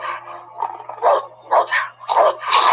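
A dog in the film The Northman barks and yips in a quick series of sharp, close calls, some whining, over a faint steady low hum.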